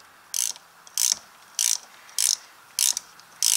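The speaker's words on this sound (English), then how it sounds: "This is where a ratchet wrench comes in really handy." A ratchet wrench loosens a 13 mm nut on a Can-Am rear differential, giving six evenly spaced bursts of sharp, close clicking with quiet gaps between strokes.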